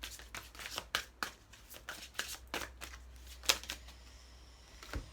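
Tarot cards shuffled by hand before a final card draw: a quick run of crisp riffling bursts and soft slaps, close and fairly quiet, with no talking.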